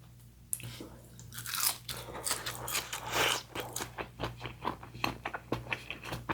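Someone bites into a crunchy Trader Joe's frozen pancake-like snack, then chews it with a rapid run of close, crisp crunches.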